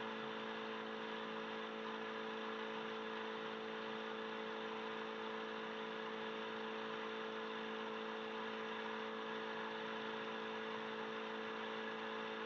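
A Tecnam P2002 light aircraft engine idles at an airstrip, a steady droning hum with constant tonal whine, unchanging and fairly close for the whole stretch.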